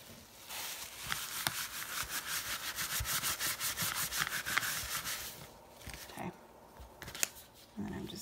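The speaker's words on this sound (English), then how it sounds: "I'm just going to scrape this on there like that" A handheld scraper drags material across a craft tag in close, steady rasping strokes for about five seconds, followed by a few brief scuffs and handling noises.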